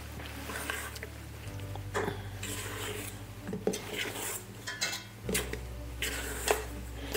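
Wet, sticky baguette dough stirred and scraped around a bowl, with soft slaps and scrapes over a steady low hum, clattering lightly against the bowl's sides.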